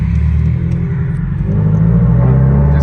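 A Subaru STI with a catless downpipe and aftermarket exhaust rumbles loud and deep, its low drone rising in pitch partway through as the engine revs.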